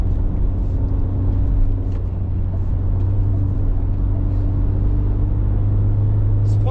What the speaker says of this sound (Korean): 스포츠 모드로 진입을 할 때 엔진의 배기음이 조금 많이 들려오긴 합니다.